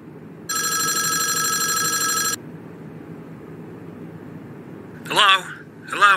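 Telephone ring in the video game Five Nights at Wario's, a loud electronic ringing burst lasting about two seconds over a low ambient drone, followed by a brief voice.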